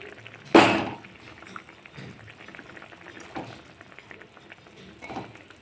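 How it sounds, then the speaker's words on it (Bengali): Fish curry gravy simmers in a pan with a thin layer of added water, soft bubbling and low liquid noise punctuated by one loud splash or clatter near the start, close and steady without speech. "এই যে অল্প করে জল দিয়েছি, ঝোলও ফুটে উঠেছে।"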